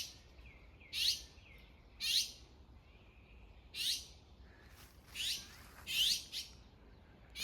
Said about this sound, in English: There's a lot of these magpies just here.